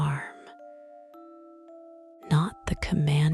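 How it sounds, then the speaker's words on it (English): A soft small bell rings once, its pure sustained tone lingering and fading in near silence, before a voice begins speaking over it. "The third story began with a sound, a bell"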